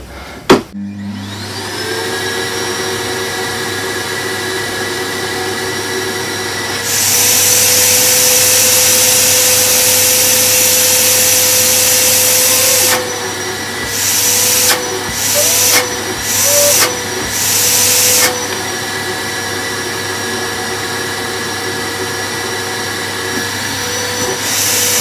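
A shop vacuum pulls dust through a cyclone bucket dust collector, its steady motor roar rising louder midway, then several sharp surges and drops as airflow changes before settling to a constant hum.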